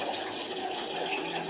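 Water is poured into a pot while brinji rice is cooked, giving a steady, close rushing gush of liquid that continues evenly without pause and with no talking.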